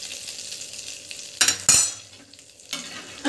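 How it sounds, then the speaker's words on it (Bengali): Curry leaves, cumin, dried chilli and chopped garlic fry in mustard oil for palak paneer, with a low crackle broken by a few sharp, loud sizzling bursts as things are stirred, heard close and alone. "সর্ষের তেলেতে দিয়ে দেবো কারি পাতা, জিরে, শুকনো লঙ্কা আর রসুন কুচো। এগুলো একসাথে দিয়েছি, দিয়ে আমি ভেজে নেব।"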